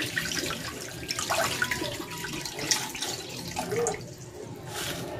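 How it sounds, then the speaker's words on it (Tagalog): Water is poured into a pan holding chicken, onion and ginger for chicken soup, a continuous splashing, gurgling stream at close range with small drips, no voices over it. "Lalagyan ko ito ng tubig."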